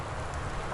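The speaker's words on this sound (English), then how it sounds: "The wind and the rain are at overdrive in terms of the sound design" Steady, dense rain with wind from the game Gone Home, a continuous hiss of falling drops with no other sounds on top.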